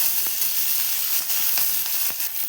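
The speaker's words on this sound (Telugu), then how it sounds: "ఆవాలు, జీలకర్ర దోరగా వేయించుకోవాలి." Mustard seeds and cumin frying in hot oil, a steady close sizzle and hiss with scattered small pops and crackles throughout.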